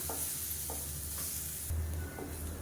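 Crushed garlic fries in a pan for a green moong dal dish, a constant bright sizzle with a few soft scraping stirs spaced through it, close and fairly loud.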